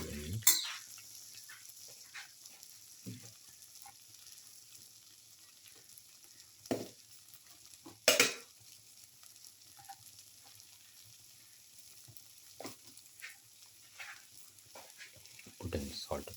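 Okra and potato pieces stirred in a sizzling pan, a soft steady fry under occasional scrapes and clinks of a utensil against the pan, with a few louder knocks scattered through.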